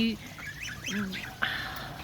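Several short, high-pitched honks and peeps from goslings rise and fall close by, with a brief louder call near the end.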